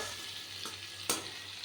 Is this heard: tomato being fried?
yes